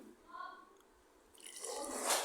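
Tamarind water poured into rice for arisi paruppu sadham, a broadband splashing gush rising in the second half and building to a louder pour at the end, after a brief faint tone near the start.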